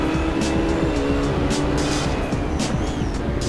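GT3 race cars at Vallelunga in Assetto Corsa brake hard for a tight turn, with a loud constant engine roar, downshift blips and tire squeal as they sweep past close by.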